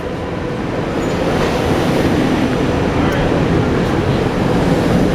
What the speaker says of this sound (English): There goes the train I just got off of.